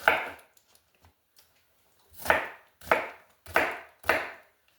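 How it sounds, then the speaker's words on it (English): A knife chops onions into big chunks on a cutting board in a home kitchen, with a few light taps and then four firm, evenly spaced chops, close and distinct. "And I cut my onions when I do this."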